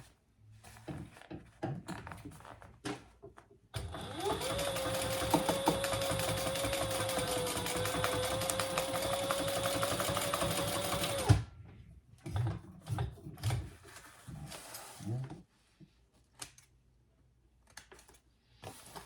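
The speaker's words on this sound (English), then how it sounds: "we're gonna flatten that out and sew across that seam" A sewing machine stitches across the seam of a fish pouch in one continuous, steady run of about seven seconds. Scattered handling clicks and thumps of the fabric can be heard before and after.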